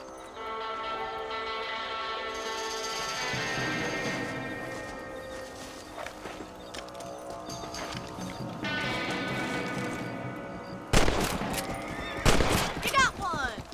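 Rifle shots at rabbits in Red Dead Redemption, with hooves and horse sounds plus a game score; sharp cracks come near the end after a long musical stretch.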